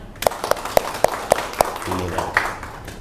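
A university class gives applause after a correct answer, with a string of sharp, evenly spaced claps in a steady rhythm, followed by faint background voices.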